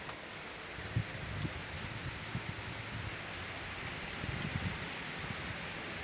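Rain falls steadily around a large rock in a forest, a soft, even hiss with scattered drop taps and light rustling, no talk over it.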